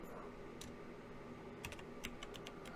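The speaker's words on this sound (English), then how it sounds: "So we'll type in foundation." Keystrokes on a computer keyboard, a short burst of several quick clicks near the end over a steady low room hum, with a lone tap earlier on.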